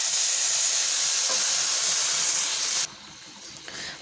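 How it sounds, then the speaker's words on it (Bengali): Boiling hot water is poured onto fried rice in a pot, giving a loud, steady steaming hiss and sizzle that cuts off abruptly, leaving a quiet low simmer. "এখন আমি এর মধ্যে দিয়ে দিচ্ছি ফুটন্ত গরম পানি"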